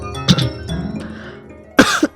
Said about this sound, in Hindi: ओहो, कौन है ये जो इतनी जोर से खांस रहा है?